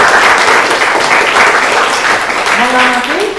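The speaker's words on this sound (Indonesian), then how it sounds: "Kasih aplaus dulu." An audience in a university lecture session applauds, with steady clapping throughout and a voice speaking briefly over it toward the end.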